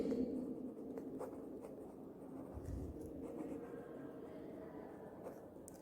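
Pen writing figures on paper, faint scratchy strokes close by with soft rustles, steady and quiet with no talking.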